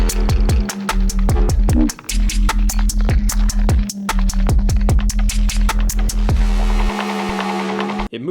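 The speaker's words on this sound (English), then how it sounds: "I'm just automating in this phase distortion from this up an octave and 4 semitones sine wave that's going through some pretty insane levels of distortion" Heavily distorted, compressed sine wave pitched up an octave and four semitones, with automated phase distortion sweeping a notch; loud, dense synth tone with a rapid train of pitch-dropping pulses, thinning near the end.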